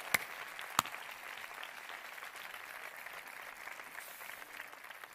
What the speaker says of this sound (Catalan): El primer aplaudiment de la nit és per tots vosaltres.